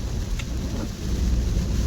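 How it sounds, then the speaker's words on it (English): Heavy rain coming down during a solo hike and camp in Galloway Forest, a dense, close, continuous wash of noise with wind buffeting, no one speaking. "Oh, the rain's coming down heavy now."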